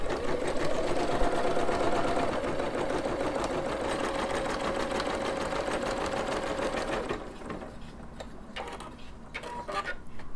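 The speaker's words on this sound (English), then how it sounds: "now I'm going to put my presser foot down and just keep going like nothing happened." A Singer Legacy SE300 sewing and embroidery machine stitches an embroidery design, a loud, steady rapid mechanical whir with a continuous needle rhythm for about seven seconds, then it stops and only faint quieter clicks and handling noises remain.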